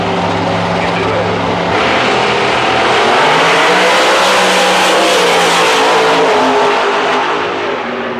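Pro Stock drag race cars launch down the strip at Houston Raceway Park, a loud roar rising in pitch as they accelerate away, swelling and then fading slightly, with little talk.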